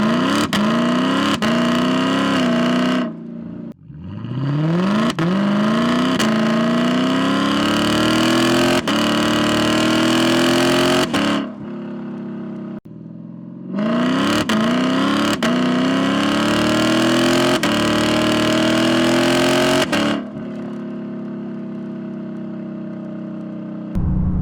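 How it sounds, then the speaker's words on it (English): A Lexus LC 500 engine revs hard and climbs through quick upshifts, each rising wail cut by a brief drop at the shift; loud and close, with a couple of short pauses and a settling idle near the end. "I'm gonna give you an example of what the quick shift sounds like"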